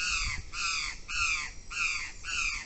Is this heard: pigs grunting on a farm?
no